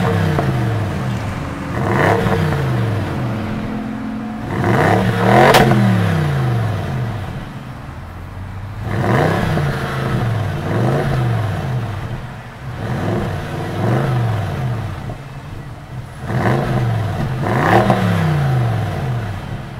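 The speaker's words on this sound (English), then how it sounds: "it has a 4-liter twin-turbocharged V8 engine that makes 520 bhp and 502 pound-feet of torque" A 2017 Bentley Continental GT V8 S with a 4-liter twin-turbo V8 revs again and again, each loud, close blip rising sharply and falling back to a steady idle between bursts.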